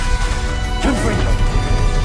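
Confringo spell blast in the video game Hogwarts Legacy, a sudden loud fiery burst with a crashing impact over dense game combat noise.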